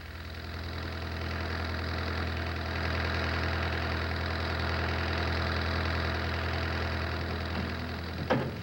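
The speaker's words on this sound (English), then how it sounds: "A most sophisticated use for the vehicle is a hydraulic high-lift platform" A Land Rover Series 3 fitted with a hydraulic high-lift platform runs its engine at a steady idle, a continuous close drone with a faint knocking texture and a short clatter near the end.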